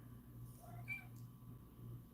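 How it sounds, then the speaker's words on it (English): A cat gives a single faint meow, quiet and brief, over a low steady hum. "Meow to you too, sir."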